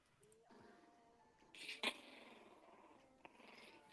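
Puppies growl and scuffle while fighting, a low, faint rumbling with yips and a sharp squeal midway, close by and without talk.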